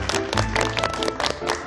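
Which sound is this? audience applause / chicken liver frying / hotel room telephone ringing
audience applause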